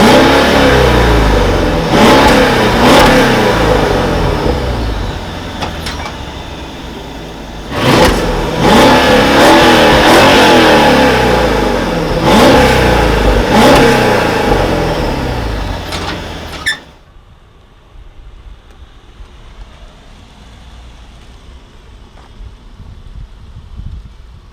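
A Mercedes S-Class engine revs hard through its exhaust in several loud, rising bursts close by, then cuts off abruptly, leaving only faint background noise.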